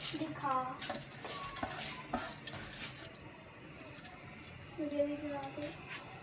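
Rice being stirred into a pot for Balochi chicken sajji, with scraping and clinking of a utensil against the metal pot and a light sizzle, while a voice speaks over parts of it.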